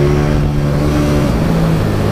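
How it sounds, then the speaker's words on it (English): A KTM 790 Duke motorcycle with a parallel-twin engine idles or revs with a steady, deep exhaust note, loud and close throughout, with no talk over it. "it delivers such a delicious exhaust note"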